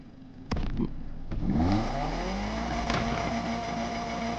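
A customized car's engine in the racing game Need for Speed Unbound fires up with a sharp bang, then revs with rising and falling pitch sweeps before settling into a loud, steady idle, close and with no voices.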